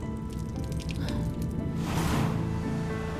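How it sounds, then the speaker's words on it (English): Water dripping into an air pocket in smoldering collapsed rubble, a wet squishy trickle with irregular drips, moderately faint and steady throughout with no talk. "Water begins to drip into her air pocket."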